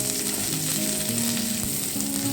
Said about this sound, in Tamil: இப்படி நல்லா பரட்டி கொடுத்து கொஞ்சம் வதக்கிக்கலாம்.